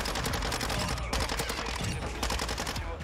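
Rapid automatic fire from a Minibak submachine gun in Modern Warfare 2, a dense stream of close, loud shots with a few short breaks.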